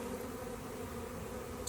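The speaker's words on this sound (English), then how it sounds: "there are bees flying inside" Steady, dense buzzing of many bees flying into a box, close and fairly loud, continuous through the whole moment without a break, with no voices.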